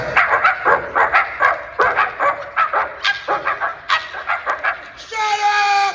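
A man at a comic convention Q&A panel imitates a small dog with his voice, letting out a quick run of high yappy barks and yips into a microphone, loud and close, ending in a brief whine.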